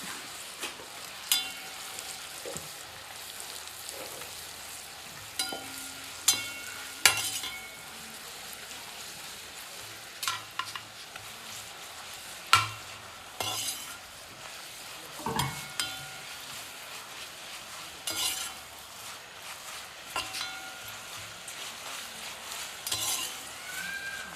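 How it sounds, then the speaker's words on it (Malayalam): Pieces of papadam frying in hot oil for a masala curry, a soft continuous sizzle broken by frequent clinks and scrapes of a stirring utensil against the pan, close by and with no talk. "അതിനകത്തോട്ട് നമ്മുടെ ഈ കഷ്ണിച്ച് വെച്ച പപ്പടം ഒന്ന് കാച്ചി എടുക്കുകയാണ്"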